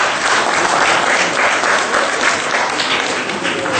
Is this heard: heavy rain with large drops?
no